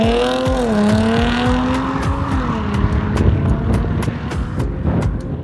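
Jaguar F-Type sports car engine roaring loudly as it drives past, revving up and shifting with a rising, then falling growl, followed by crackling pops from the exhaust.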